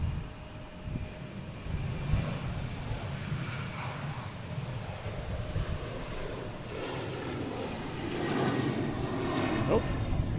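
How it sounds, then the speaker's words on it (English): A United Airlines Boeing 737-900 takes off at an airport, its engine roar rising steadily from a moderate distance and swelling toward the end, partly buffeted by wind on the microphone. "next taking off, we have United Airlines heading to Houston, 737, 900"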